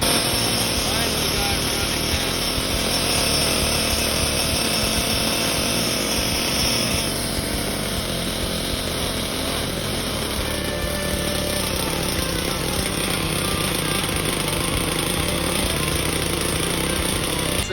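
A HPI K5.9 nitro engine in a Losi LST RC truck is cranked in attempts to start it, a loud continuous buzzing whir running steadily and up close throughout.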